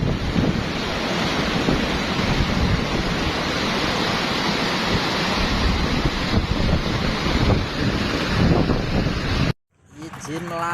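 Floodwater spreading across flat land after a river embankment breach near Demak, Indonesia, a loud, continuous rushing wash mixed with heavy wind buffeting the microphone, then a sudden cut to quiet background voices at the end.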